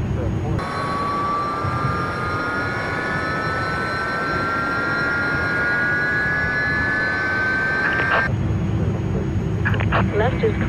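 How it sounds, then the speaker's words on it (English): A UPS Airbus A300F jet engine spooling up in Microsoft Flight Simulator: a steady roar with a whine that climbs slowly in pitch, loud and continuous, then cutting to a lower rumble near the end. "Let's start on engine number 2, starting engine 1."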